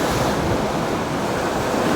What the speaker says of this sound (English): we're getting different sets of waves going through